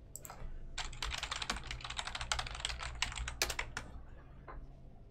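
Rapid typing on a computer keyboard, a dense run of clicky keystrokes in an irregular flurry, close and fairly quiet with no talking over it.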